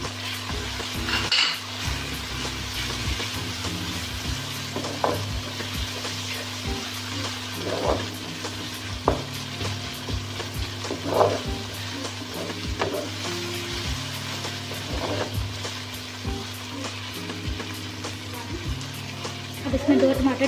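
Ginger garlic paste sizzling and frying in a pan for matar pulao, a steady hiss under repeated clinks and scrapes of a spoon against the pan, with brief voice in places.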